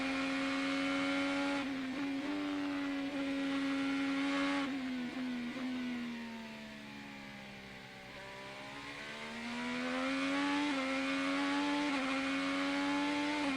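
Onboard IndyCar race car engine at Barber during a race stint, a loud sustained high-pitched whine that holds steady, dips as the revs fall mid-clip, then climbs back to full pitch.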